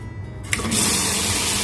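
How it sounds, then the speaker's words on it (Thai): A tap fed by a refurbished old water pump opens with a brief click and water gushes out, settling into a strong, steady rushing flow. "นี่ครับน้ำไหลแรงปกติ"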